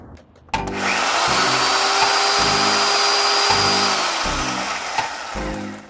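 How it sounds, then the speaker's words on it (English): A little mini electric chainsaw running off a portable battery power station cuts through wood with a loud steady whine, its pitch dipping in rhythmic pulses as it bites, with no talk. "So I could use my electric chainsaw, and this is a little mini one."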